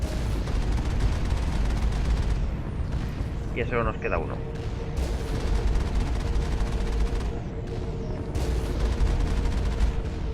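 Turret gunfire in the video game Mass Effect comes as several bursts of shots spread across the scene, heard beneath someone talking over the action.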